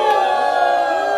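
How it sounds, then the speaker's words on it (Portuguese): An audience at a lively event shouts and jeers at the girls, a sustained loud crowd roar with voices whooping over one another. "Uma vaia nas meninas."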